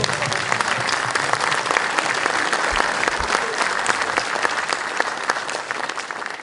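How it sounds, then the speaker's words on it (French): An audience at an exhibition event in Amiens in 2013 claps loudly and steadily, a dense wash of applause that fills the space throughout. "applaudissez."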